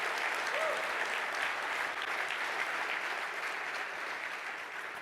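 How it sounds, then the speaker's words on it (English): A keynote audience at the 2024 Sandler Summit applauds with a continuous, even wash of clapping that stays steady before easing slightly toward the end. "Give these people a round of applause"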